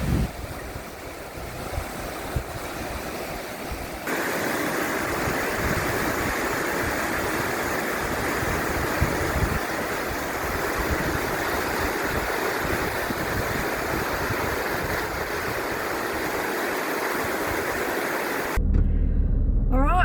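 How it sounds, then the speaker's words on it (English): Tully River rushing through rainforest in tropical Queensland, a loud, steady roar of churning water with wind buffeting the microphone, continuous throughout with no talking. "Tully River in all her glory."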